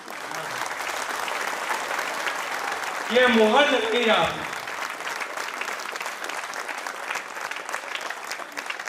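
Audience clapping at a Hindi poetry recital runs steadily through the whole stretch, heard under and around a voice speaking over it.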